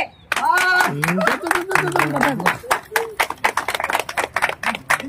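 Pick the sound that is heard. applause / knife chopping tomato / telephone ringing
applause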